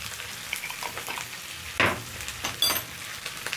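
Spinach wilts in a frying pan seasoned with salt and black pepper, a steady close sizzle with a couple of brief louder scrapes or tosses partway through and no talking.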